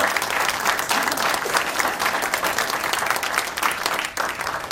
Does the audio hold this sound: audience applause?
yes